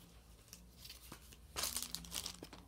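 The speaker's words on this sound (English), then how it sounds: "So I put it in this cellophane sleeve just to protect it, really, just to prevent any further damage." A CD case is slipped into a thin cellophane protective sleeve, giving a burst of bright crinkling and rustling at close range, louder in the middle stretch after quieter handling noises, with no talk.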